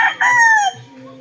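A three-year-old heavy-boned rooster crows once, loud and close, its call rising then trailing off, followed by low clucking.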